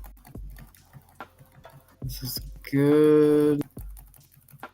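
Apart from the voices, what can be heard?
typing on a computer keyboard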